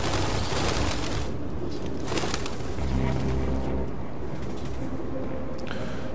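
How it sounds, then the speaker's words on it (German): Pigeons cooing in the video game Detroit: Become Human, a soft repeated coo sitting among dense game ambience and rumbling noise, fairly close but partly masked. "diese Vögel, ey."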